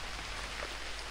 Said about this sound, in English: And we wake up to the rain.